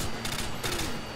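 Rapid LMG fire in Modern Warfare 2 on the Xbox 360, a loud, dense stream of close shots hammering without pause in a brief burst.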